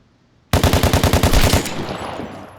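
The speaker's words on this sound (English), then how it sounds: "Beautiful freaking headshot, baby." A light machine gun in the shooter game Vigor fires a rapid burst of about ten shots in under a second, loud and close, with a short echoing tail and no talk.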